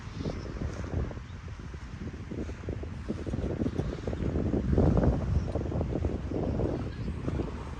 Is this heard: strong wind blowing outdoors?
yes